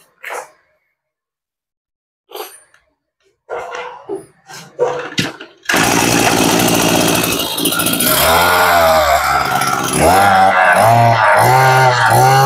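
A used Japanese brush cutter's small two-stroke engine sputters after a few faint knocks and pulls, then roars to life and runs loud and steady, rising in revs toward the end.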